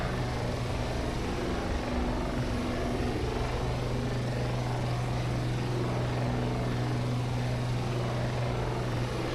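A heavy Shergood S64 helicopter in a flight simulator game drones with a steady, dense rotor and engine roar and a low constant hum, loud and unbroken, with no talking.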